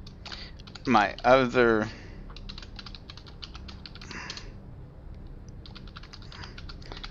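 Computer keyboard typing into in-game chat for the alpha of Cloud Pirates, rapid light key clicks in bursts, close by, with someone briefly speaking near the start.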